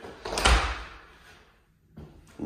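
A big door of an insulated outbuilding swings open with a loud clunk and scraping sweep, then fades to quiet before another soft knock at the end.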